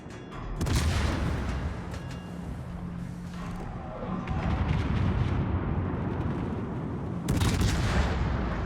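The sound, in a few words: cruiser guns firing at enemy ship, naval video game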